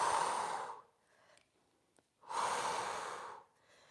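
Slow breaths during a Pilates knee-hug exercise: a long, close, airy exhale, a quiet pause, then a second full breath of similar length, with no talking.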